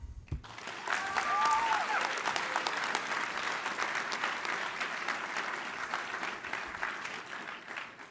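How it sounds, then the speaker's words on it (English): A large audience gives a bipartisan round of applause for Secretary Kennedy at a food policy celebration, clapping swelling after the first second and holding as a dense, sustained roar with brief faint voices early on. "Can we get a bipartisan round of applause for Secretary Kennedy"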